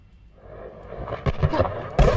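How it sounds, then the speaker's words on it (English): A UFO in The Universim, a sci-fi colony-building video game on the moon: a rising, swelling electronic whoosh with rumbling low end and crackling bursts building in loudness over a couple of seconds. "And that is the sound of a UFO."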